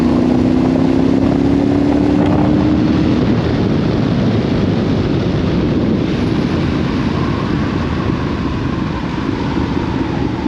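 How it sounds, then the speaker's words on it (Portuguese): A Yamaha Tenere 700 Rally motorcycle engine pulls steadily in sixth gear at about 60 km/h, a loud continuous drone with wind rush and a slowly rising tone. "Olhem a moto a puxar de sexta, a 60 km por hora a puxar de sexta."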